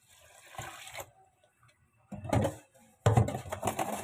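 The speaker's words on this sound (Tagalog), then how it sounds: "Lagyan natin ng tubig." Water runs from a tap into a pot of brown rice in three separate bursts with pauses of silence between them, close and fairly loud, the last burst strongest.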